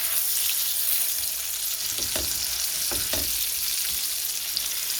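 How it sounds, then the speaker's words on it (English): Chicken frying in a pan with a steady loud sizzle throughout, close up, with a few faint utensil knocks or stirs in the middle and no talking. "I'm going to go ahead and come over here and check on my chicken."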